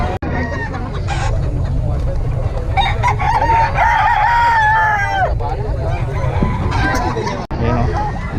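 Fighting roosters at a poultry market in Bocaue crow repeatedly and cluck nearby, loud and clear over a constant crowd hubbub and scattered talk.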